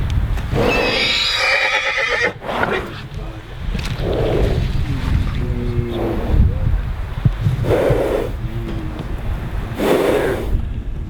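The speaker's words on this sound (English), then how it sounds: "All of a sudden we heard one of the horses just going crazy." An agitated horse neighs loudly outdoors in a series of shrill, shaky whinnies spread across the stretch, with wind buffeting the microphone and people speaking between calls.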